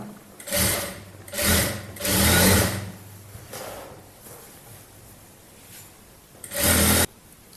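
Sewing machine stitching lehenga lining pieces together, running in several short bursts of a second or so each, with quieter gaps between; close and fairly loud, no talk.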